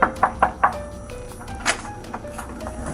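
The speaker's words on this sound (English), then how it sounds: "The officers arrived at the apartment building and knocked on the door of Mr. Braden and Ms. Odometer." Four quick knocks land on an apartment door in an even rhythm, near and sharp, followed by one softer knock amid faint background rustle.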